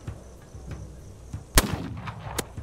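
A single sharp gunshot in the This Land is My Land video game stands out loudly midway, followed by a fainter second crack, over a low rumbling outdoor ambience.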